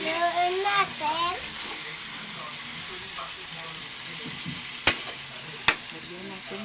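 Chicken for adobo sizzles in a pan while being stirred, a steady frying hiss with scraping and a few sharp clinks of the utensil, as a voice talks briefly at the start.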